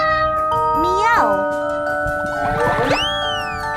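Two drawn-out meows from a domestic cat, the second longer and more strained, close and fairly loud over a faint steady hum.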